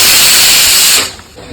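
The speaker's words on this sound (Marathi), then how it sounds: "कुकरच्या शिट्ट्या होतात" A pressure cooker cooking mutton vents a loud, close rush of hissing steam for about a second, then cuts off into a quiet kitchen background.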